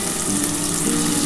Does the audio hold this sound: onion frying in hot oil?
yes